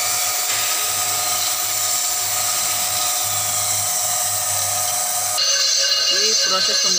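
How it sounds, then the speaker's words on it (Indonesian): A steady high-pitched machining whine with a low motor hum underneath as a lathe turns the inside of a brake disc, shifting to a harsher scraping tone near the end. "Ini proses pembubutan bagian dalam sudah selesai"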